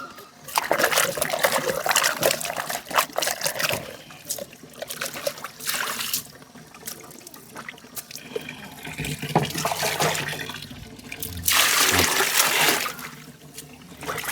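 Vegetables freshly picked from a garden being rinsed under running water, with steady trickling and splashing that swells and fades in bursts, loud and close.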